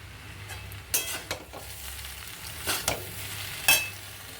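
Eggs being stirred and fried in a pan with salt and soy sauce, giving a steady low sizzle broken by several sharp scraping and clattering stirs, close and fairly quiet, with no talking.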